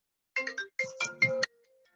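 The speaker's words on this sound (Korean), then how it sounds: "전화가 와가지고" A phone ringtone plays a short melodic tune of several quick tonal notes in three bursts, clear and close, then stops abruptly with no talk around it.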